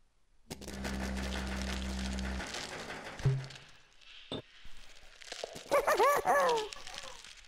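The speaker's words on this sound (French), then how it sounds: "Donc on a retrouvé le toutou qui est piégé." A trapped dog in the Bulb Boy video game lets out a series of whimpering, yelping cries near the end. A loud buzzing tone and bursts of rattling game noise come before, with no talking.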